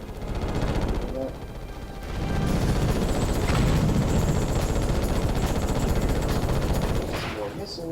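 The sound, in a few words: Ratchet and Clank gunfire and missiles, video game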